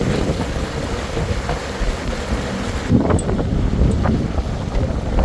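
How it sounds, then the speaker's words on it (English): Crosswind buffeting a pontoon boat near a dock on the Gulf coast, a constant rough rumble of wind across the microphone with water lapping beneath and a few small knocks, no speech. "Got a crosswind on us,"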